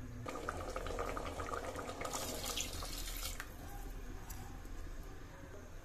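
Water pours steadily into a pressure cooker of cooked mutton on a stove, eight tumblers for four tumblers of rice, a continuous close splashing and gurgling that swells briefly partway through.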